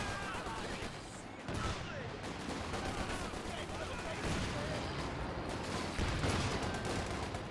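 Sustained machine-gun fire from a Vickers in the Company of Heroes 2 battle game, rattling bursts and scattered gunshots layered over dense combat noise for several seconds, with a commentator's voice running underneath.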